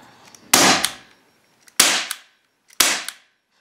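Three sharp, loud shots from a Gletcher JRH 941 air pistol, spaced about a second apart, each a crisp crack with a short ringing tail, close by with silence between.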